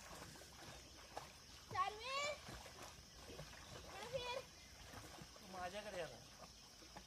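A child kicks their legs and paddles in a swimming pool in summer, making soft, irregular splashes that come and go, while a voice cries out and whines over the water noise.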